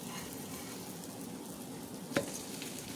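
Bread toasting in ghee in a pan on a low flame, a faint steady sizzle with one small pop.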